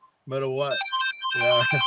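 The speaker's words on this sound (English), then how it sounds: "Sorry, that's just a phone ringing." A phone ringtone sounds in a room with steady electronic tones, close and moderately loud, heard alongside people talking.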